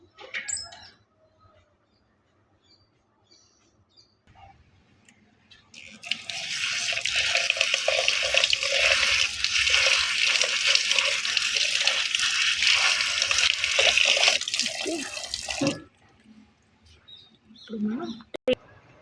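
Blue tea flowers are washed under a running kitchen tap, a loud, steady gush of water lasting about nine seconds, with scattered handling sounds and some talking before and after.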